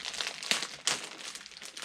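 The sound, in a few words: scissors cutting open a postcard package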